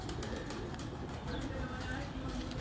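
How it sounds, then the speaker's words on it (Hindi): A Miyan Sahib golden pigeon coos in low repeated notes close by, with other birds and people talking over it. "और ये मियां साहब वाले कबूतर जी हैं?"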